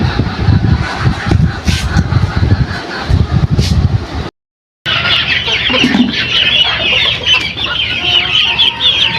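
Chickens cluck and squawk excitedly, close and loud, while being fed cut water hyacinth, with busy overlapping calls and rustling throughout and a brief silent gap midway.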